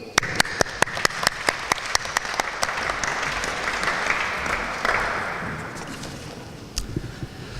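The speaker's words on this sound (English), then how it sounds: "Can we give him a big round of applause" Audience applause at a college graduation ceremony in London, starting with loud individual claps that swell into a steady, dense clapping from the crowd, then thinning out toward the end.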